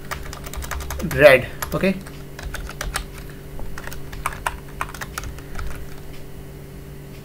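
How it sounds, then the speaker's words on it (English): Fingers typing on a computer keyboard, a light scatter of close key clicks running through the whole stretch while someone talks briefly near the start. "So let me type"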